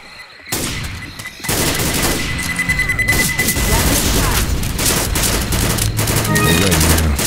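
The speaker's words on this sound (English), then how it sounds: "Grenade!" Left 4 Dead 2 gunfire and a grenade explosion in a swamp level, with loud sustained automatic fire and heavy booms that carry on continuously after a brief quiet start.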